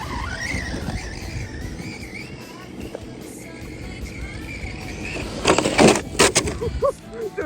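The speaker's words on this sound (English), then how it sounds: "Try to get some air with our rally car here." An RC rally car drives and tries to catch air, its small motor whining steadily under outdoor background noise, with a few loud scraping bursts near the end.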